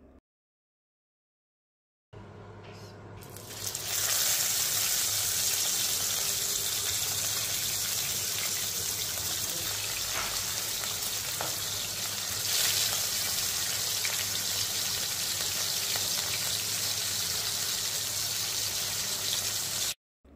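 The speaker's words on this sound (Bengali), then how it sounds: "এবার কাটাগুলো ভেজে নেব।" Marinated fish bones fry in a pan with a loud, steady sizzle that starts after a couple of seconds of silence and continues evenly to the end.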